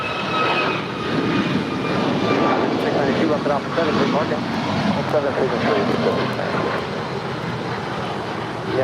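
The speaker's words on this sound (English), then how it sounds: "That is United 1897 departing to Chicago. It's a 2-year-old 737 MAX 9." A two-year-old United Boeing 737 MAX 9 jet departs LAX for Chicago, its engine roar steady and loud throughout, with voices talking over it.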